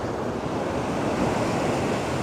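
Ocean waves wash and splash against Margate Pier, a steady, loud roar of surf mixed with gusting wind noise across the microphone, with no pause or talking.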